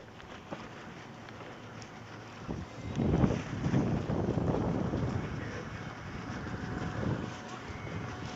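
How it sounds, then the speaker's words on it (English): Wind gusts buffet the microphone while cycling through a residential street in Bristol, a rumbling low roar that swells and fades in waves, strongest in the middle. "Wind is picking up."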